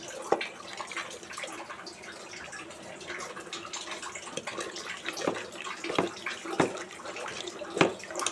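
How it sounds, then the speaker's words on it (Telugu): Water pours and splashes into a tamarind juice mixture in a container at a low level, with small irregular drips and clinks throughout. "కలుపుకున్న తర్వాత తగినంత వాటర్ పోసుకోవాలి"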